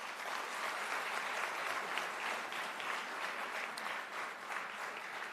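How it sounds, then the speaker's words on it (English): A sustained round of applause from an audience at the grand finale of a cycle design challenge, dense steady clapping that fills the whole stretch with no talk over it. "Can I have a big round of applause for all the teams?"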